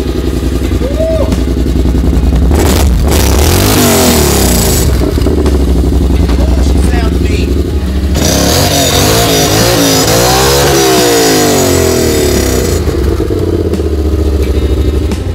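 A Yamaha Wolverine X2 side-by-side with an HMF slip-on exhaust backs out, its engine idling and revving loudly and steadily with clattering mechanical noise throughout.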